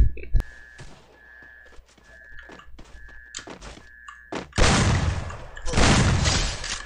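Bursts of gunfire from the battle game Free Fire, played on an emulator: scattered sharp shots and thuds over the first seconds, then two loud, sustained volleys near the end, with no talk during them.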